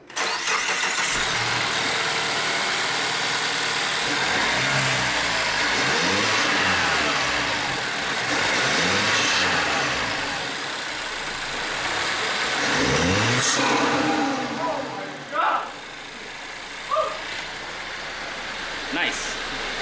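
A 2022 Mazda3 turbo fitted with a new intake and exhaust cranks and fires up, then revs loudly several times in rising and falling sweeps before settling toward idle, close and continuous, with voices briefly audible.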